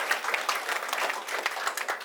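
Church congregation claps together to welcome the bishop at a Catholic parish celebration, a continuous, lively patter of many hands lasting a couple of seconds, close and even, with no voices over it.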